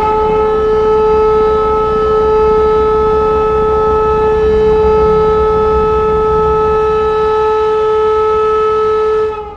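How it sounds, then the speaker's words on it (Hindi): Air raid sirens sound in Kyiv and Kharkiv in wartime Ukraine, a loud steady wail with bright harmonic tones that holds at one pitch for about nine seconds before cutting off, with no voices. "यूक्रेन के दो सबसे बड़े शहर कीव और खारकीव में दिन भर बजते ये सायरन।"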